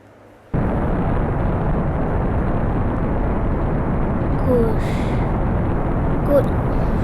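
A rocket engine in the game Spaceflight Simulator ignites abruptly for a prograde burn, then holds a loud, continuous broadband roar that stays steady with faint chirps layered on top.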